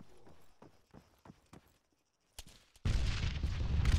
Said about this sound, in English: Gunfire coming in from range.